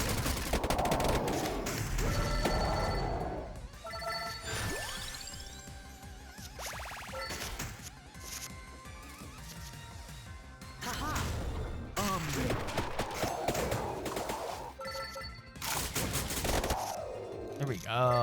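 Rapid volleys of gunfire from the Vampire Crawlers video game, bursting in dense clusters with crashing impacts and tonal game effects between them, loud and nearly continuous.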